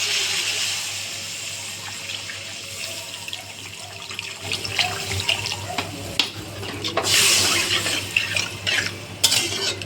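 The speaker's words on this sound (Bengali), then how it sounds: "এখন আমি জলটা দিয়ে দেব।" Water pouring into a pan of rohu fish curry, beginning as a steady near splash and then breaking into louder stirring, clatter and bubbling as the liquid meets the hot pan.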